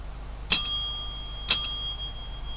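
A two-ring bell dinger sound effect: two bright, clear bell strikes about a second apart, each ringing on briefly before fading, close and loud against a quiet background.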